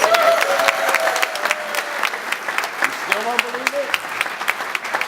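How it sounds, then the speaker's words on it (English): An audience applauds at a prize giveaway for a golden ticket winner, with sharp, close individual claps standing out over steady clapping and brief voices calling out partway through. "Big round of applause for Pat."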